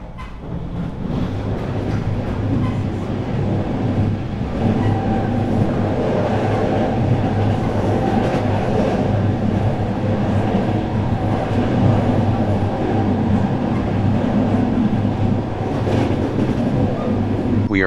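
A commuter train rolls steadily through a Cities: Skylines city, its continuous rumbling rail noise and wheel drone loud and unbroken from start to finish.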